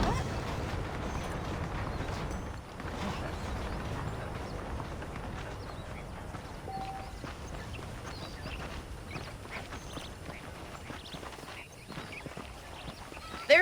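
Horse hooves clip-clop steadily in the Red Dead Redemption video game, a continuous walking gait over a low outdoor ambience, moderately near, with no talk.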